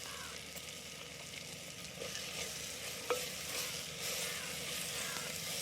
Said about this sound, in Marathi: सगळा मसाला चांगला मस्त परतून घेतला